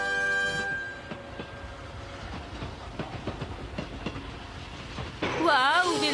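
A cartoon train runs with rhythmic clattering over a steady drone, opening with a horn-like tone, and ends in a burst of warbling, louder sound.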